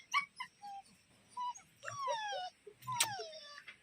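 Young puppies about two to three months old whimper and yip in a series of short, high, falling cries, close and fairly quiet, with faint background noise.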